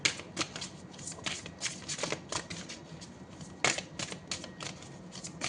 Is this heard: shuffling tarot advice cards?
yes